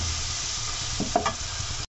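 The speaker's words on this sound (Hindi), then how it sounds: "कड़ी पत्ता, एक प्याज, ये हींग, चम्मच से अच्छी तरीके से हम इसको मिलाएंगे।" Curry leaves, onion and asafoetida stirred with a spoon in hot oil: a steady close sizzle with a few louder scraping strokes near the end, no voices.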